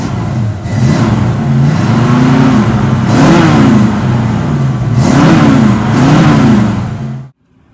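A 1965 Ford Mustang convertible with a transplanted 351 engine revs up close and loud, rising and falling in several repeated throttle blips over a steady idle before cutting off abruptly at the end.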